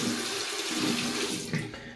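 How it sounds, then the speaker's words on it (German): Hands held briefly under hot water running from a tap, a steady rushing splash of faucet water with a slight change in the flow near the end, close by and with no voices. "Hände kurz unter heißes Wasser halten"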